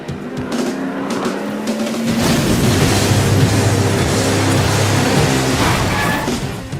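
A car races and skids in the video game Jak X: a loud, steady engine roar swells and holds, with tire squeal and rough broadband noise over it and no speech.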